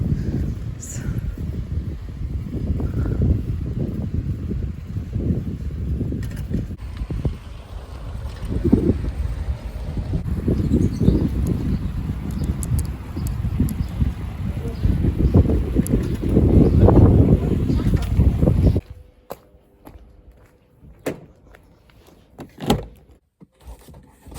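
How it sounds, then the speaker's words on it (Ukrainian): Steady gusty wind roars and buffets for most of the stretch, then drops away abruptly, leaving quieter rustling and a few soft knocks. "Вітер знову піднімається"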